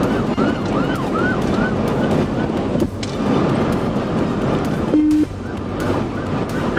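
Police car siren wailing during a high-speed interstate pursuit, a rising and falling electronic tone sweeping repeatedly over steady road and wind roar, with a brief horn-like blast near the end.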